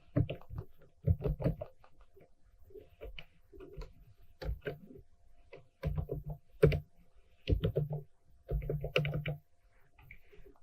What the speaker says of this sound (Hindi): यहाँ पे मैं पासवर्ड एंटर करूँगा।